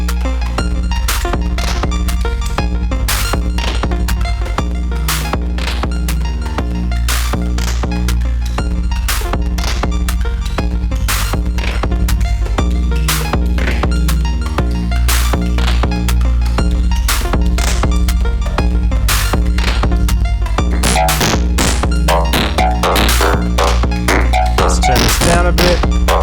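Modular FM drum synth voices run by two 8-step sequencers hammer out a dense, loud, steady rhythmic pattern of sharp percussive hits over a deep throbbing low end, playing alone throughout.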